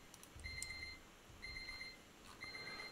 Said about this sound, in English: Let me turn off this insane beeping first.